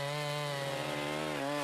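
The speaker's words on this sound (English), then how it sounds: "A gasoline-powered two-stroke engine drives a chain outfitted with sharp metal teeth." Gasoline-powered two-stroke chainsaw running steadily up close, a loud buzzing whine with a strong tonal drone and a slight shift in pitch near the end, with no voices.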